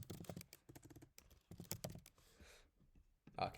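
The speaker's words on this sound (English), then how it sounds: "Let's type in Bored Ape." A computer keyboard rattles with quick bursts of typing, two dense runs of keystrokes broken by a short pause and followed by a few scattered taps, close and fairly quiet.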